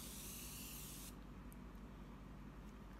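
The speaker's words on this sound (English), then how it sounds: "I got the Morphe setting spray" A bottle of Morphe setting spray gives one loud, close burst of hiss that stops abruptly after about a second, leaving quiet room noise.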